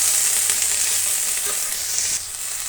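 Onions, vegetables and lentils sizzle steadily in a hot pan while being stirred, a dense close frying hiss with occasional scraping clicks of the spoon that eases slightly near the end.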